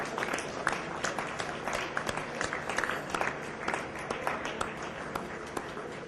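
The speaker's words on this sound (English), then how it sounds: "give yourselves a round of applause" Audience applause at a gala, a dense continuous patter of many hands clapping through a hall, steady and moderately loud from start to finish, with faint crowd murmur underneath.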